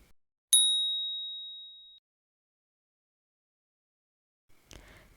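A single bright bell ding rings out clearly and rings on for about a second and a half before fading, followed by silence and a brief faint rustle near the end.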